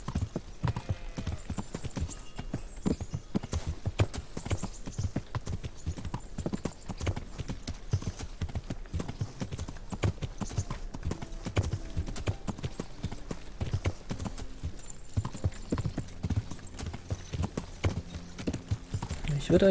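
Horse hooves clip-clopping in the video game Kingdom Come: Deliverance, a steady rapid trot of sharp hoof strikes continuing throughout at a moderate, even level.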